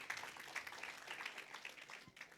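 A church congregation applauds during a sermon. The clapping is faint and distant, a steady patter of many hands that stays even throughout.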